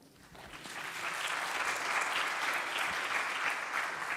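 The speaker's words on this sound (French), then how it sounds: "On peut les applaudir encore une fois, parce qu'ils ont été merveilleux." Applause at a citizens' meeting in the salle des fêtes in Montargis, France, a crowd's clapping that swells in the first second and then holds steady and full, with a faint voice underneath.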